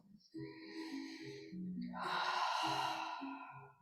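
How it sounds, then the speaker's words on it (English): A slow, deep breath drawn in through the nose and then released audibly through the mouth in a long airy sigh, close and gentle, heard on its own without talk. "take a couple of breaths in through the nose, exhale through the mouth"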